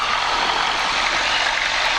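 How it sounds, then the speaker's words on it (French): A light aircraft's propeller engine roars steadily during a pre-flight run-up test toward 1800 RPM, a loud, constant broadband drone filling the whole clip with no talk. "Là, on va faire les essais moteurs."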